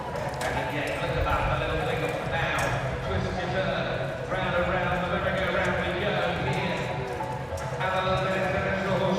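Horses trot while pulling a carriage in an FEI Driving World Cup competition in London, their steady rhythmic hoofbeats running continuously under a commentator's voice and arena noise.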